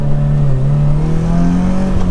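A turbocharged Subaru BRZ engine revs up loudly and steadily while merging into fast traffic, its pitch climbing smoothly from inside the cabin with a continuous whirring tone.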